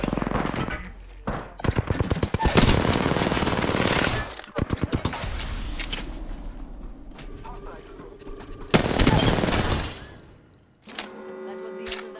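Rapid automatic gunfire in Apex Legends, several loud crackling bursts of shots broken by short pauses, with voices talking over and between the bursts.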